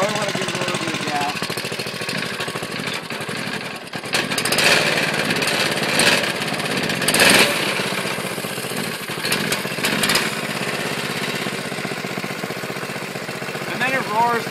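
A Manco Terminator go-kart engine, cold and hard to start, runs with a loud, steady buzzing roar and surges as the throttle opens, continuous and close throughout.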